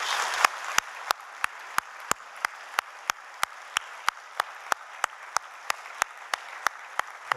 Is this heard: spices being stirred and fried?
no